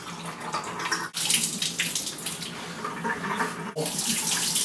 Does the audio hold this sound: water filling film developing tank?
yes